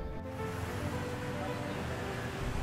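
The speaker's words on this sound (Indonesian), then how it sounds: "Sekarang lagi di kapal wisata Bandung, menikmati wisata pemandangan di tepian Sungai Kapuas." Tourist boat cruising on the Kapuas River near Pontianak, a steady rushing wash of water and engine rumble with wind buffeting, continuous and close throughout.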